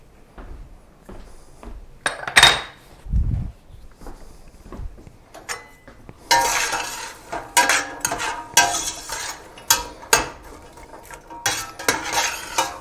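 Onions and vegetables sauteing in a pot for chicken pastina soup, stirred with a metal utensil: close scraping and clinking against the pot, irregular bursts with faint sizzling between.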